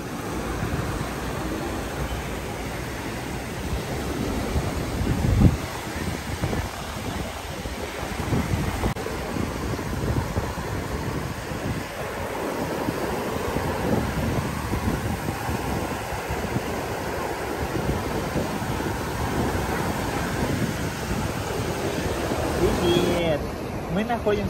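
Sea waves and wind wash continuously over the white-sand beach of Ko Lan island in Thailand, a steady, full roar with gentle surges throughout.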